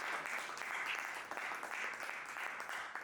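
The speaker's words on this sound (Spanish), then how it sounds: "Denle ese aplauso fuerte a Él" A church congregation applauding together, a dense, even wash of clapping that holds steady throughout, heard faint and somewhat distant with no speech over it.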